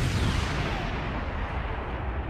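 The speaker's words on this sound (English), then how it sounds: "that felt like a rather pointless explosion" A loud explosion in a Precure animated movie, a dense rumbling roar that fills the whole span and slowly thins out toward the end.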